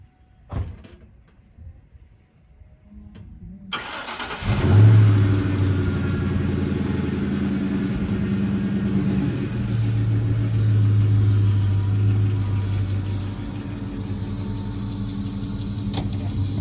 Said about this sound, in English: I'll let you hear a cold start from the stock GT again